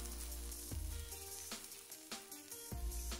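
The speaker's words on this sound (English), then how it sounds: "Mushrooms do take some time to brown, so adjust the heat to allow them to fully cook through" Mushrooms browning in a pan for a vegan Hakka taro abacus seeds dish, a soft, steady sizzle punctuated by a few louder scraping or stirring accents, close and fairly quiet.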